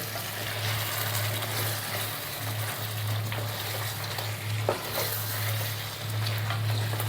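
Chicken changezi sizzles steadily in a frying pan as garam masala is stirred in, with a continuous close frying hiss and occasional soft scrapes and clicks of the spoon.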